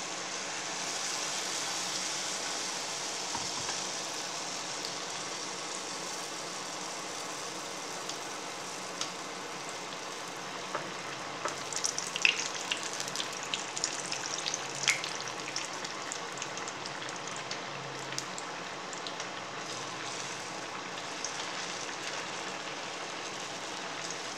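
Appam batter cooks in a wide pan with a steady soft sizzle and crackle, a continuous bubbling hiss with small pops through the middle, close and moderately quiet, no talking.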